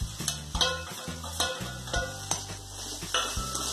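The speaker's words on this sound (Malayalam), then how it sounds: "ഇനി ഒന്നുകൂടി നല്ലപോലെ ഒന്ന് മിക്സ് ചെയ്യാം" Tomato and onion masala with spice powders stirred in a hot pan for fried Maggi noodles, a steady sizzle punctuated by rhythmic scrapes and clinks of a spoon against metal, close and clear, no speech.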